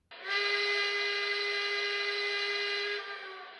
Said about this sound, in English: Everything about this engine is huge, except for the whistle.